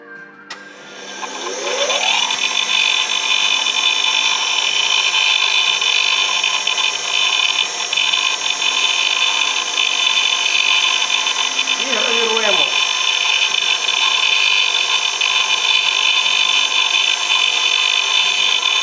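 Rotary engraving tool running at high speed while engraving tiny micro text letters, a steady loud high-pitched whine that spins up at the start and holds throughout, with a brief lower swoop partway through.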